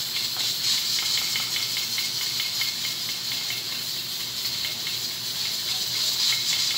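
A pot of water at a rolling boil with whole garam masala spices added, giving a steady hissing, bubbling wash of sound that holds even and close throughout, with no talking.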